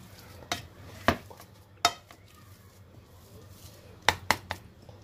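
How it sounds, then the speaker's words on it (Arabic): Cooked potatoes being mashed in a pot, heard as a scattering of sharp metallic clanks and taps spaced irregularly over quiet background, with faint scraping between strikes. "ما طابت البطاطا مليح، باش نغفصها هكا، نغفصها ولا نمعسها كيما تحبوا"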